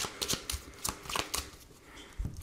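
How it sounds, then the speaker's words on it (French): Lenormand cards shuffled for a nine-card spread, a run of crisp riffling bursts and soft slaps at close range with brief pauses between, no talking. "on va voir les messages avec le Lenormand, on va voir un petit peu ce qui ressort. Donc on va faire un tirage en 9 cartes"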